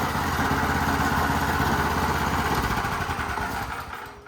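A small pull-started engine on a personal track vehicle power unit runs at a steady idle, a loud, close, rapid putter that fades slightly toward the end.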